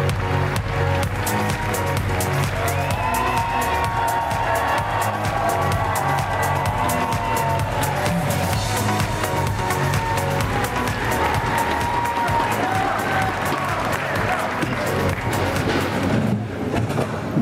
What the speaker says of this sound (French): Please give a warm round of applause for Mr. Baljit Singh Bawa.